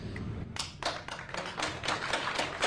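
People clapping in a courtroom at the close of proceedings: a scattered run of hand claps, uneven in rhythm and moderately close, with no talk over it.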